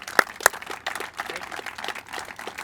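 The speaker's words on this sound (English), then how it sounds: "you deserve a round of applause as well" A court dedication audience claps in a sparse round of applause, a few sharp close claps standing out over a softer, thin patter of hands that continues steadily throughout.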